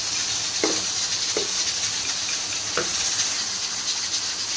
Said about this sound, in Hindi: इसमें प्याज फ्राई करेंगे, और इसमें डालेंगे काजू